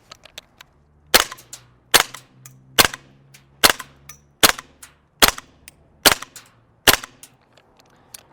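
A GHK G5 gas blowback airsoft rifle fires about nine sharp, loud, close single shots at a steady pace of under a second apart into a chronograph, each with a quick metallic snap and short ring, with no talking.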